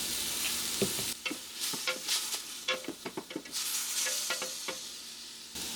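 Vegetables sizzle and fry in oil in a pot for a chicken noodle soup, close and lively, with a run of quick stirring scrapes and clinks over the hiss.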